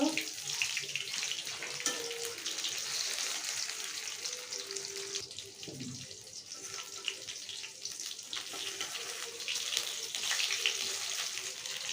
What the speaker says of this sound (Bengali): এক পিঠ ভাজা হয়ে গেছে এখন আমি অন্য পিঠটাও ভেজে নেব